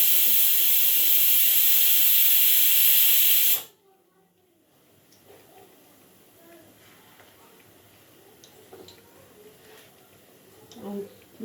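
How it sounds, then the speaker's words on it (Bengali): A pressure cooker whistle releases a loud, steady hiss of steam for a few seconds, then cuts off abruptly, leaving a quiet kitchen with faint clinks and a soft voice. "এদিকে আমার প্রেশার কুকারটাও সিটিটা শুরু হলো।"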